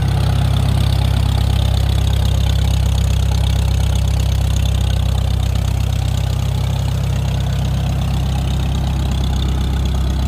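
A Farmall M tractor engine idles close by with a heavy, thunderous, steady low rumble, loud and continuous with no voices.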